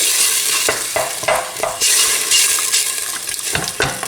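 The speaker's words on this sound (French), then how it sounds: "je fais revenir ma viande" Beef bourguignon cubes frying in a pan of peeled, crushed tomato for a beef, lentil and carrot tagine, a steady close sizzle broken by repeated stirring scrapes, with no talking.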